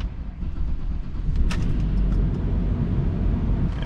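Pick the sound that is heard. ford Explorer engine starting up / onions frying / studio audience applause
ford Explorer engine starting up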